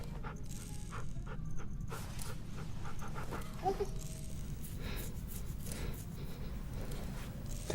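A dog pants steadily and close by, an even breathy rhythm running through the whole stretch over low background rumble, with a faint brief whimper partway through.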